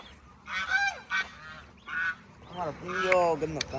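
Several ducks quack and honk loudly at close range in short overlapping bursts, with brief pauses between calls.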